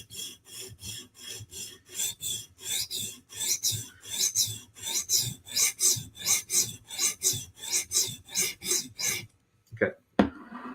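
A knife blade is stroked back and forth across a sharpening stone in a steady rasping rhythm, about twenty close strokes, then a few clacks at the end.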